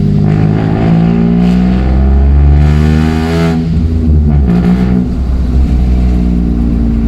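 Loud, close engine revving from a Toyota Aygo with a Piper exhaust manifold, the pitch climbing and dropping through sustained acceleration, heard alone without voices.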